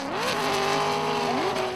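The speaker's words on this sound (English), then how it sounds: "He's going to hear all that noise of the big LS of Benny Meir, though, as he takes off." A drift car with a big LS V8 launches, its engine roaring loud and rising in pitch through the revs with a brief shift dip, dense and close with race-track noise and faint tire squeal.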